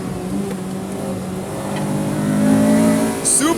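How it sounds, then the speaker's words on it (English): The engine of a 1998 Acura Integra Type R DC2 revs up into VTEC, its pitch climbing steadily during a short burst of hard acceleration. The sound is loud and close, with a brief higher whine near the end. "You gotta love the engine, especially when you get to VTEC."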